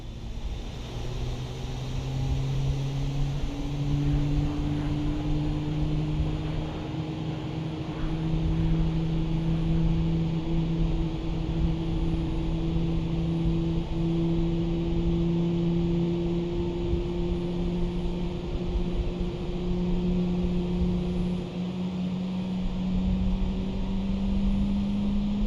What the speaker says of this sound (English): let's go outside and have a look at the engine startup and enjoy the sounds of the engine starting up